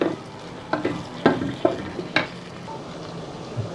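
Tomatoes being stirred into sizzling masala for an aloo anday potato and egg curry, with a steady fry hiss broken by several sharp spoon scrapes and clinks against the pan, close and moderately loud, no talking.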